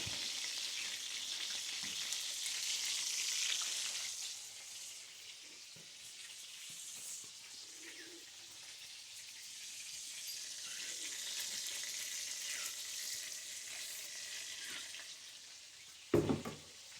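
Flour frying in a pan for gravy gives off a steady, close sizzle that fills the whole clip, with light scraping from stirring and a brief louder clatter near the end.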